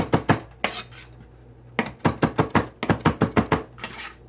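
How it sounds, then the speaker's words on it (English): Fresh cilantro being finely chopped with a knife on a cutting board: close, sharp chops come in two quick rapid bursts, separated by a pause of about a second. "I have cilantro here. It looks like parsley. I'm going to chop it up really fine."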